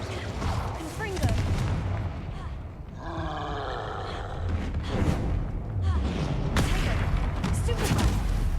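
Repeated Confringo fire spell blasts from Hogwarts Legacy burst over a thick, roaring game soundscape, loud and close, with a dense rumble between impacts and a bright crackling swirl in the middle.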